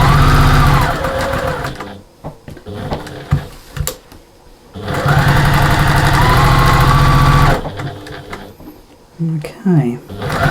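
A sewing machine runs in two long bursts, stitching a 1/8-inch basting line on a fabric storage caddy, with a steady whirring drone and someone speaking in the pauses between runs.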